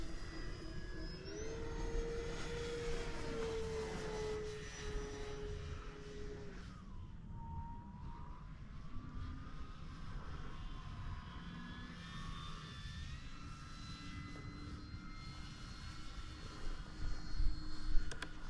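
RC model airplanes, a Viper and a Turbo Timber Evo, flying outdoors in fine weather, a distant engine whine rising and falling as they pass, with a steady faint drone and no voices.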